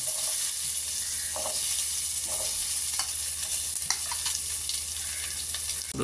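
Onions fry in hot oil with cinnamon, cloves and cardamom for chicken tikka pulav, a loud, constant sizzle close up, broken by occasional scraping from stirring.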